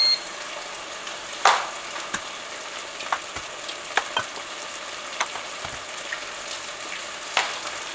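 Eggs cook in a pan on low heat, giving a soft, even sizzle broken by occasional sharp clicks and utensil taps at irregular intervals.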